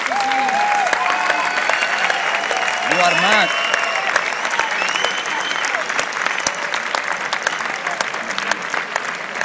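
Loud, sustained audience applause welcoming a film director onto the stage at a film presentation, dense clapping throughout, with a brief shout and some voices over it.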